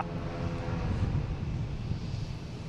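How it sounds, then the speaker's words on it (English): A Spirit Airlines airplane at Boston Logan airport gives off a steady, loud engine roar and rumble, continuous and fairly close, with no voices. "This is the honorary Spirit plane."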